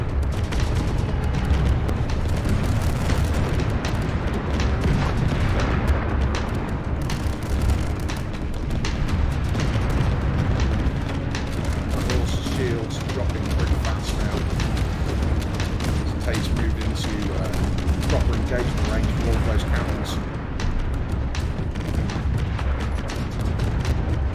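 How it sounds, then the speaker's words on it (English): Heavy cannon fire pounding a ship's hull in the StarCore video game, a loud continuous barrage of booming impacts and explosions, with commentators talking over it. "Heavy fire impacting the hull."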